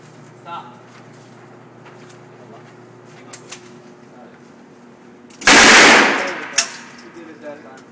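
A machine gun fires one short, loud, close burst of automatic fire at a Las Vegas shooting range. Before it, the range is quiet apart from faint clicks and handling noises.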